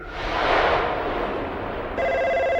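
A telephone rings in a Hellraiser film scene, giving a loud, sustained electronic bell tone that starts partway through after a stretch of noisy rumble, with no talk.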